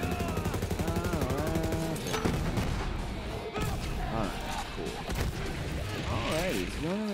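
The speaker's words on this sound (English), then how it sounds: "You do a ton of damage with these rocket launchers" Rocket launchers fire in the shooter video game Borderlands 3, booming blasts and explosions stacked over game music and effects, with people talking throughout.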